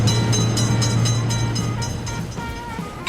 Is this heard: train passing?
yes